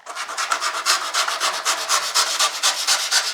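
Cured urethane spray foam insulation, applied without misting water, being cut by hand: a steady run of close, rhythmic rasping strokes with no talk.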